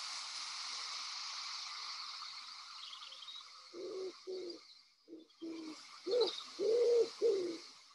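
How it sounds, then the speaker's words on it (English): Wood pigeons, Britain's largest pigeon, coo in a series of soft, low hooting phrases, starting about halfway in and growing louder toward the end, over a steady bed of high ambient hiss from an outdoor setting. "they were wood pigeons. This is the British largest pigeon."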